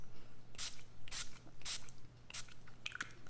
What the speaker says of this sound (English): So I'm going to go ahead and spray with my Scandinavia finishing spray.